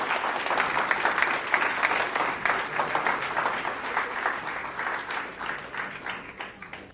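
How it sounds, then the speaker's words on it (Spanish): Steady, dense applause from a church congress audience, many hands clapping continuously at moderate distance and slowly tapering toward the end, with no talking over it. "Podéis aplaudir si queréis"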